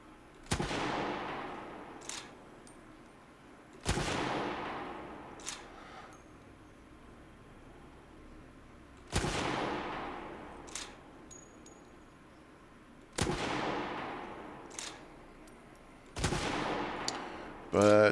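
Rifle shots in a video game demo ring out one at a time, roughly six sharp loud cracks spaced a few seconds apart, each with a short ringing tail over a quiet background, with no talking.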